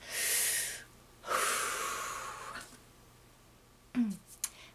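Two long, loud, close breaths, a drawn-in inhale then an extended exhale, followed by a short snort or sniff and a faint click.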